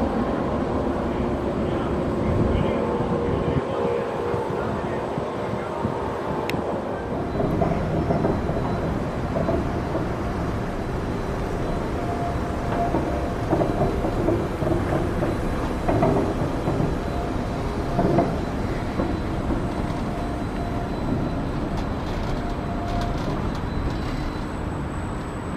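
A roller coaster train runs on its track at Liseberg amusement park, producing a continuous, fairly distant rumbling roar that swells and fades slightly over a long stretch.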